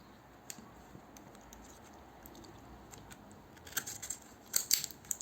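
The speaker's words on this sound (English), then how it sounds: "let me just crack this packaging" Pearl shaving product packaging is cracked open with quiet clicks at first, then a cluster of sharper crinkling, snapping bursts near the end, close but faint with no talk.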